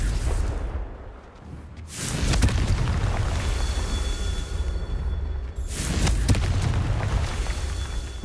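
Two loud booming blasts of the Confringo blasting curse in Hogwarts Legacy, each a sharp burst followed by a long rumbling roar, spaced a few seconds apart.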